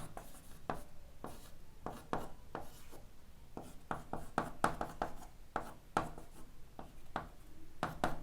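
Chalk or marker writing on a board during a chemistry lecture on carboxylic acids and esters, a steady series of close scratchy strokes and taps in irregular rhythm, with no voice.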